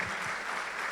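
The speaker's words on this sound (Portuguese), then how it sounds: "Você pode aplaudir o Senhor mais uma vez?" A church congregation applauds during a worship service, a dense, steady wash of clapping that fills the whole second without a break.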